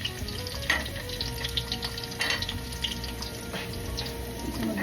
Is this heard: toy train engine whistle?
no